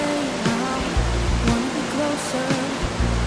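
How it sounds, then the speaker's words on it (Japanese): Kinen Falls, an 11-metre waterfall inside Ryugado limestone cave in Kochi, roars as a steady, dense wash of falling water that fills the space, with a few faint low thumps under the constant rush. "こちらは記念の滝です。 洞窟内の最大の滝で高さは11メートルあるそうです。"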